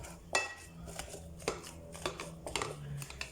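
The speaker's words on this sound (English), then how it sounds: "Give this a mash so all the seasoning comes together." Vegetable pasta sauce mashed in a pot, scattered clinks and scrapes of a utensil against the pot, close and quiet in an uneven rhythm.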